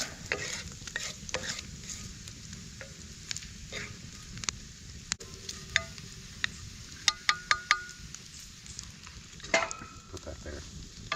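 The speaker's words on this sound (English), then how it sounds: "It's a hot fire. Don't want to burn the bacon. That'll sit in that fat." Bacon frying in fat in a pan over a hot campfire, a steady close sizzle with scattered pops and crackles, a few sharper clicks near the end, no talking.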